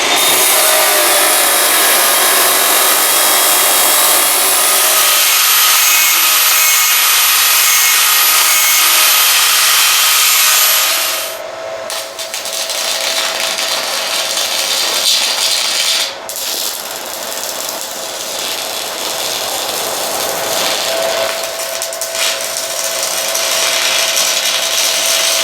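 A stick welder fusing fine metal mesh onto a strip for a custom solar equipment cage gives a loud, steady crackling hiss that runs continuously, dips briefly partway through, then resumes with a rougher sizzle.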